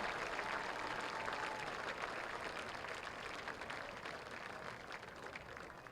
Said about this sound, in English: Nice round of applause for all the students, faculty, and administration involved in helping this worthwhile cause.